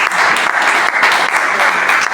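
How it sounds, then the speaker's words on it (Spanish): A church congregation breaks into loud, dense applause, a sustained close wash of clapping filling the whole moment. "Este aplauso es para ustedes."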